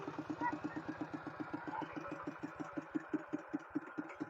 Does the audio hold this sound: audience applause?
no